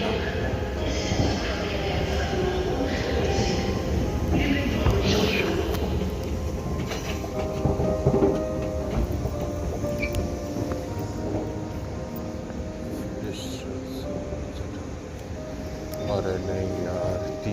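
Night-time ambience inside Berlin's main railway station, with a continuous hum of trains and platform noise, rolling and clattering sounds and voices mixed in, easing slightly toward the end.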